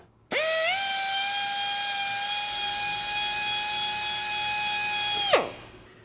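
An electric drill runs steadily for about five seconds, boring out a welding torch gas lens to fit a larger tungsten, a high whining tone that holds level and then winds down.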